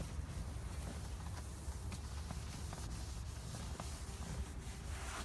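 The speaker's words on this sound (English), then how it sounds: "I'm just going to wipe this in." A cloth wipes SONAX interior cleaner across a car's interior surface, making a soft, steady rubbing swish throughout, faint and close, with no talk.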